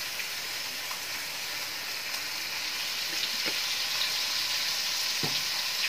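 Steady crackling sizzle of fish frying in hot oil, continuous and close, with a few faint scrapes and no voices.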